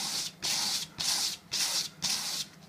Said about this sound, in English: give it a good sand down